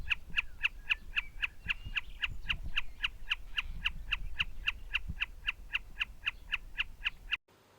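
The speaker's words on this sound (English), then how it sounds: "The most common call of the snipe is as follows." A common snipe calling: a long, evenly paced series of sharp, clear repeated notes at a steady rhythm, close and distinct over low background rumble, cutting off abruptly near the end.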